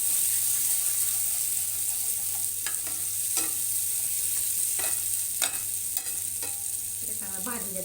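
Spiced fish masala sizzles steadily in a pan as a spoon stirs and scrapes it in several irregular strokes, close up with no talking.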